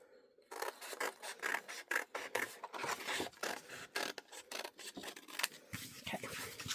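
Scissors snipping through paper scrapbook pieces close up, a quick uneven run of crisp cuts and rustles, with faint speech in the background.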